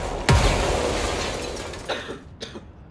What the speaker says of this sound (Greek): Πυροτεχνήματα.